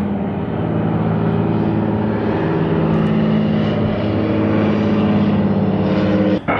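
A small propeller plane takes off in Ketchikan, Alaska, passing at about eye level with a steady, loud engine drone that holds throughout with a strong low hum.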